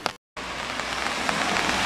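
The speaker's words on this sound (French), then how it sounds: "il pleut à fond depuis cette nuit" Heavy overnight rain pours steadily onto surfaces, a dense, continuous hiss with scattered louder drops, broken by a brief silent gap near the start.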